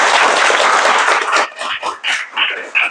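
A classroom of students claps for a classmate's answer, a loud burst of dense applause that thins into a few scattered final claps within three seconds.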